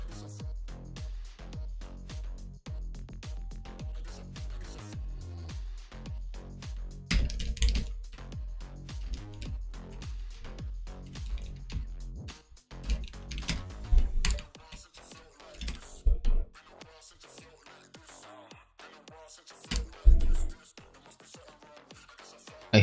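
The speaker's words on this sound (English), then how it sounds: "I hope the fucking keyboard is not too loud." Typing on a computer keyboard while debugging an iOS authentication system: a steady stream of close, crisp key clicks with occasional louder bursts and short pauses.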